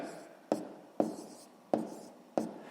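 A pen writes numbers for a sixth-grade math exercise, four sharp taps at an even rhythm, each followed by a soft scratch on paper, close and quiet.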